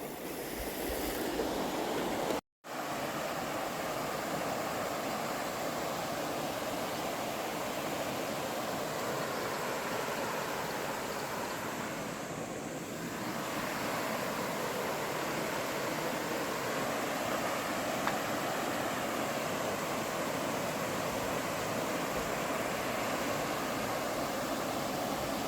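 A wide river flows at Salakot Falls, a steady broadband rush of moving water that stays even and continuous throughout, with one brief dropout near the start.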